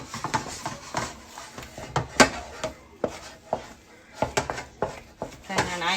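A spoon clacks and scrapes against a bowl while shepherd's pie ingredients are stirred together, producing a string of irregular close knocks with soft, squishy mixing between them.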